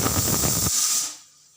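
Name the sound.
pressure cooker hissing steam while cooking whole moong dal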